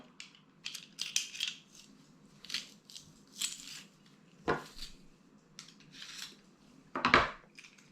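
Garlic cloves are pressed into butter with a metal garlic press, giving a series of soft intermittent crunches and metallic clicks, with a sharper squeeze near the end.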